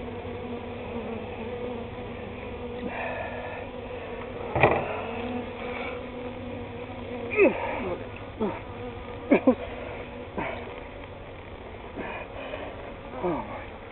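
A bee swarm moving into a new home, heard from within inches: a continuous, dense insect buzz with individual bees zipping past the microphone in brief louder swells, while a person talks quietly underneath.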